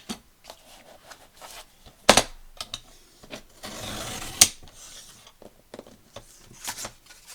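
Paper pages being cut for a handmade junk journal mini album, with scattered short snips and rustling paper, a louder cutting stretch in the middle, all close and fairly quiet with no talking.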